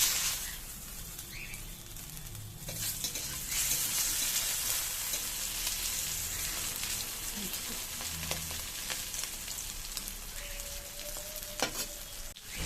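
Prawns frying in a hot pan, a continuous loud sizzle with occasional stirring scrapes and clatters, close up and steady throughout, with no voices.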